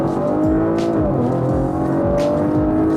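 A 2019 Audi RS5 launching hard, its engine roaring loudly and climbing through rapid rising sweeps as it shifts up through the gears, heard close from inside the car.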